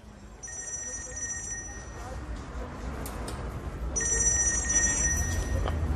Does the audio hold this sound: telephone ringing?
yes